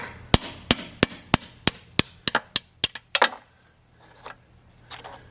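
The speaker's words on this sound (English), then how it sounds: "now we've got to drive out 2 dowel pins" Sharp metal hammer strikes drive dowel pins out of a ZF5 transmission case, about eleven evenly spaced loud blows followed by a few quieter clinks and taps.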